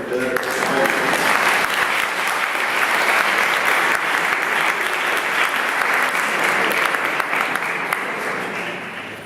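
An audience at an opera concert applauds the deputy mayor, a dense, sustained wash of clapping that holds strong and then tapers slightly at the end.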